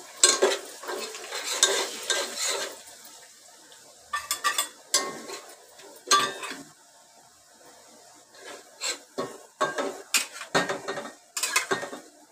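Masala and onion being stirred in hot oil in a pan for Malvani-style chicken, with clinking utensil scrapes in bursts and gaps between them over a faint frying hiss, close by.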